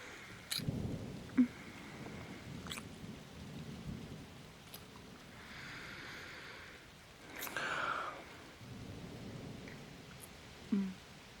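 Outdoor rain falls steadily and softly while thunder rumbles low several times, with a few sharper cracks. The storm stays fairly quiet and distant, and no one talks.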